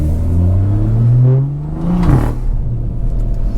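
A BMW 340i with the B58 engine and a loud aftermarket exhaust revs up close by, its pitch rising and then falling back with a rough crackle as the revs drop.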